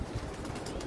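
A pigeon coos close by in a brief, low, soft burst.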